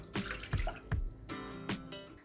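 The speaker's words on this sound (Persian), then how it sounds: "داخل یه قابلمه کوچیک آبو میریزم" Water poured into a small pot to start a syrup for a baklava-style cake, splashing in a few short bursts with brief pauses between them.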